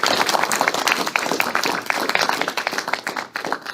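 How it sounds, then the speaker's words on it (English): Audience applause for Dr. Jeffrey Kwan at a dinner gathering, a dense burst of many hands clapping at once, loud and steady with no voices over it. "give him a round of applause for his."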